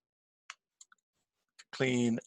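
A handful of sparse, quiet keyboard key clicks spaced out over about a second and a half, followed by a short burst of a person's voice.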